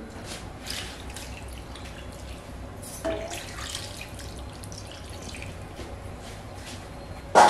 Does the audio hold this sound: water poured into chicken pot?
yes